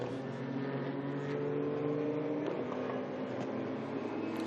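Ligier race cars racing at Le Castellet, a continuous distant engine whine with shifting tones as cars lap, faint and steady throughout.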